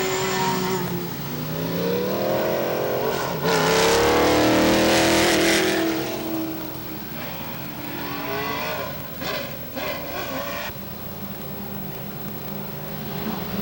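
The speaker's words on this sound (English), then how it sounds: "the engines come alive in the third turn" Race cars at Star Speedway in New Hampshire roar through the turns, a loud, sustained pack of engines swelling and revving as cars sweep past, then easing back to a steady drone.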